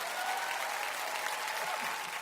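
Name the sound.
clapping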